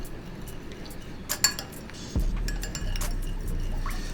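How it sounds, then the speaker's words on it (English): Syrupy broth being stirred together in a pot in a home kitchen, with a few light utensil clinks and scrapes and a soft liquid swirl, close and moderately quiet, with no talking. "Mix this all together."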